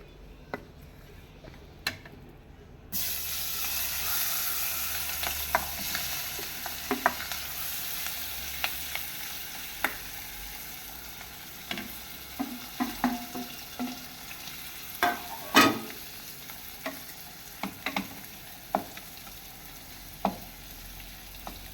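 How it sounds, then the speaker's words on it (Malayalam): Dried stingray fish frying in a pan, with a steady close sizzle and a run of sharp spatula taps and scrapes spread through the clip, and no voices. "എന്നാൽ നമുക്ക് വറുത്ത് നോക്കാം"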